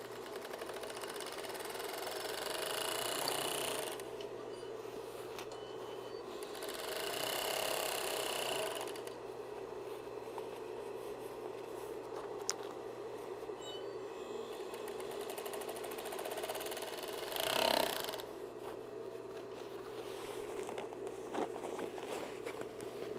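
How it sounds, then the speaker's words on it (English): A three-cone overlock machine with a single needle runs steadily on shoulder bag fabric, a continuous close whirring hum with slight swells, lasting the whole stretch with no talk. "when you're using the overlock and it's threaded with 3 cones, you want to make sure there's only 1 needle"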